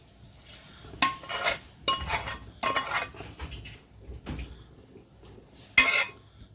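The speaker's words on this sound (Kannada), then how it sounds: "ಒಗ್ಗರಣೆ ಈಗ ರೆಡಿಯಾಗಿದೆ ನಾವು ಮಾಡಿರೋಂಥ ಪಾಲಕ್ ಪಪ್ಪಿಗೆ ಸೇರಿಸ್ಕೊತಾ ಇದ್ದೀವಿ" Spice tempering (oggarane) poured into spinach dal (palak pappu) made with toor dal, stirred in a pot with a metal spoon; clinking and scraping strokes come in bursts, fairly close, with no talking.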